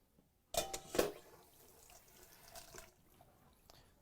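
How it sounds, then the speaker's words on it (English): Water from a pot is dumped into a kitchen sink, with a sudden splashing gush that lasts about half a second, followed by quieter trickling and draining. "I'm going to dump this water."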